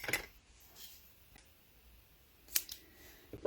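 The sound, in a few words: scissors cutting paper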